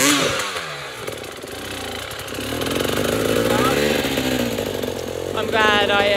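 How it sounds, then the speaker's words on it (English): Loud enduro motorcycle engines rev and whine up and down continuously, buzzing close by with rising and falling pitch throughout. "All you can hear is burning engines"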